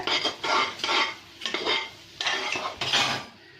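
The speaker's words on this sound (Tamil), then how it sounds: "பேனில் நல்லா நெய் போட்டு அதை நீங்கள் மிக்ஸ் பண்ணிக்கோங்க." Jaggery mixture with ghee is stirred in a pan, a metal spoon scraping and clinking in six or seven quick rhythmic strokes, close and moderately loud with no talking.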